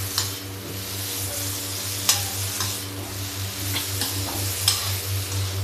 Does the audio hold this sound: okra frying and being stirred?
yes